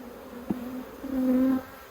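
Honey bees hum around an open backyard hive during an inspection of brood frames in Australia, a close buzzing drone that swells louder near the end, with one brief knock partway through and no talking.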